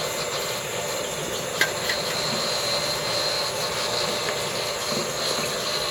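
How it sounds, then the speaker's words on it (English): A Vectrax 6 x 18 inch surface grinder spindle runs with a steady mechanical whir and a thin high whine, continuous and fairly close, broken by one small knock near the start. "The spindle is turning."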